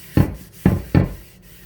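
Oil being rubbed and spread across a skillet during seasoning, three distinct close rubbing strokes, each starting with a soft thump and fading.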